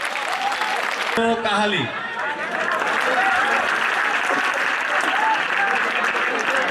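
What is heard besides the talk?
audience applause at a language competition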